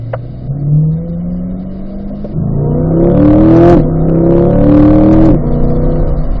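A car accelerates hard on a racetrack, engine climbing in pitch through the gears with distinct shifts, loud and close, steady roar rising with each gear.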